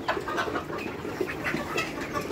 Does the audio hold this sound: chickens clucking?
yes